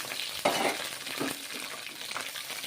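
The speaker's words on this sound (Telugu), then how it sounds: "పల్లీలు వేపుకుంటున్నా" Peanuts roasting and stirred in a pan for ivy gourd chutney give a soft, continuous dry sizzle and rustle with occasional scraping stirs, fairly quiet and close, with no talking.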